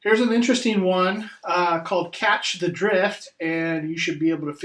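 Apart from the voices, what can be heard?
No distinct noise like a dog, phone or traffic.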